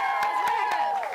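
A studio audience at a University of Oklahoma sports show cheers and shouts together in a steady, close crowd roar, with a voice's sustained tone running through it.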